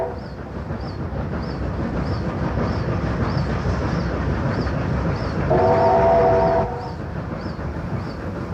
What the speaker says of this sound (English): the two 38-class locomotives hauling the Western Endeavour